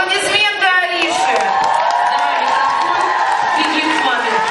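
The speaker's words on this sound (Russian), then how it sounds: "Аплодисменты Арише." At a children's summer camp talent festival, a loud crowd of kids cheers and whoops with scattered applause, a continuous excited roar of voices with high shouts at the start.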